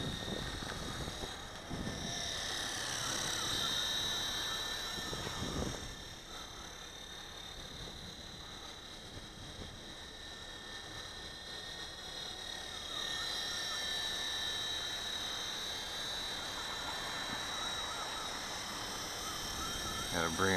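WLtoys V915 Seeker RC helicopter flying outdoors in a light breeze, a steady high-pitched whine of rotors and motor that drones continuously at a moderate distance, with a person talking over it.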